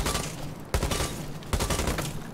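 Two sharp bursts of rapid gunfire ring out about a second apart at the shooting range in Rainbow Six Siege, each a quick crackling volley that fades between shots.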